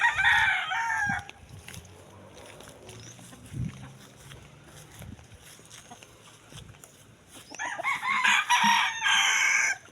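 Chickens and a rooster in a farmyard at feeding time, the rooster's loud crow opening and closing the stretch, with softer clucking and scattered fowl noises between.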